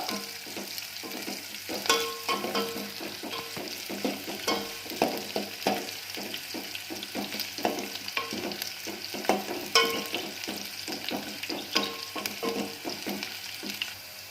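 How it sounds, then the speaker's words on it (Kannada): Oil frying in a pan on a stove for coriander rice, a steady crackling sizzle with repeated scraping stirs and clinks throughout, close and fairly loud, with no talking. "ಇದು ಸ್ವಲ್ಪ ಕಲರ್ ಚೇಂಜ್ ಆಗೋವರೆಗೂ ಎಣ್ಣೆನಲ್ಲಿ ಹುರ್ಕೋಬೇಕು"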